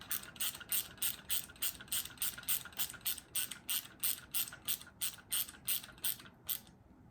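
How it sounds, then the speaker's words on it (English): A small ratchet screwdriver tightens a screw during assembly of a window blind clutch, producing about eighteen steady, evenly spaced metallic ratchet clicks, close and crisp with no talk. "So I have a little ratchet screwdriver. Tighten that down."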